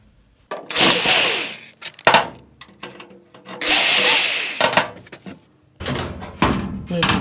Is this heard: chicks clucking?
no